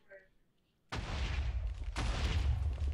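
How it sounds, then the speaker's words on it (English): Two heavy booming blasts from a cannon in a tournament match of Penumbra RFW on the Arcane Realms map, each striking suddenly and loudly and then rumbling on, following a brief murmur of speech. "His cannon's not very accurate."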